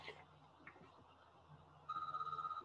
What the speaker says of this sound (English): There's a little bit of a phone ringing in the background.